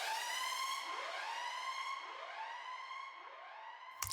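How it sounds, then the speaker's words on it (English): A rising and falling synthesized siren effect for a dark pop production, made slightly lo-fi, sweeps repeatedly and steadily on its own, ending with a brief click. "And finally we have this siren, which is a sound that is very popular in dark pop"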